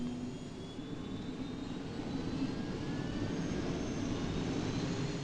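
A Northrop F-5E Tiger II jet engine starting on the ground in Swiss service, fed by a connected air tube, gives a loud, steady roar with a faint rising whine running through it for the whole stretch, with no voices.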